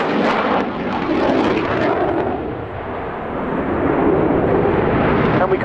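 A Polish Air Force MiG-29 Fulcrum jet flies its airshow demo, a loud continuous roaring jet engine that swells and eases slightly as it passes.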